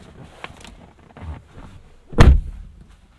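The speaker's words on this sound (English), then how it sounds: "door thud sounds very expensive" A 2021 Cadillac CT5 Luxury door swings shut with one loud, deep, solid thud near the end, preceded by faint handling clicks and rustle.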